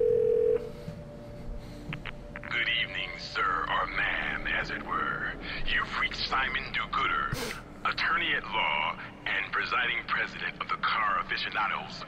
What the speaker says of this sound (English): This guy gave me a phone number. Let's phone him.